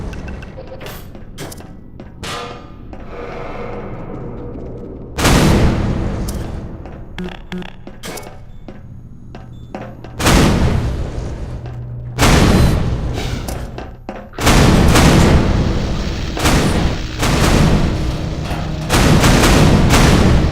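Turret gunfire in Half-Life 2, loud booming bursts of weapon fire that come and go across the stretch, several heavy volleys separated by quieter gaps full of rattling and thuds, with no talk.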